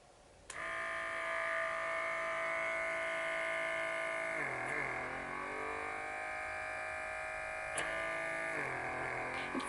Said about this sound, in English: It's got a pulling suction to it